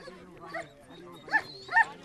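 A white-and-black griffon hunting dog on a wild boar tracking trail gives a few short yips and whimpering barks, two sharper ones near the end, moderately close and partly mixed with background voices.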